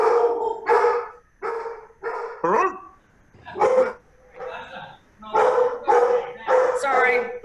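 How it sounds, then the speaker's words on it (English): Dogs barking at a UPS delivery man at a home, loud repeated barks and yips in uneven bursts close by, with a brief howling note among them. "Don't make our dog start barking, Austin."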